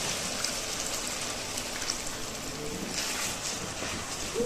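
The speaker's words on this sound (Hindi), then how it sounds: "थोड़ा सा इसमें पानी डालते हैं।" Water is poured into a pot of cooking lentils for daal, making a steady, close splashing hiss that swells slightly near the end.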